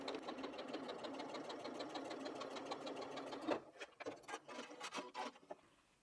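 A sewing machine stitches a quilt seam with a close, fast, even whir for about three and a half seconds, then stops, leaving a few scattered handling clicks and rustles.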